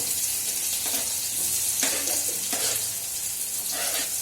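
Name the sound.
onions frying in a pan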